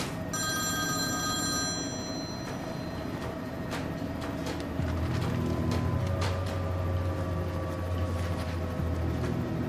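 A mobile phone rings in a tense military scene from a Turkish TV drama, its electronic tone steady and clear over a low rumbling background for the first couple of seconds before fading under a deeper engine-like drone.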